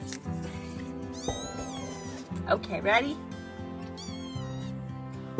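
Persian cats meowing in a neighborhood, several drawn-out rising meows at the start and again near the end, with a brief voice and background music underneath.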